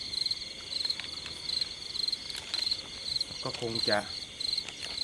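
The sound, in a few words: crickets chirping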